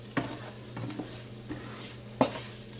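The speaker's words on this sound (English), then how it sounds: "I'm going to let this go till the rice begins to brown just a little bit" Rice browning in an olive oil mixture in a pan, with a soft low sizzle under a few scattered stirring clicks and one sharper utensil knock near the end.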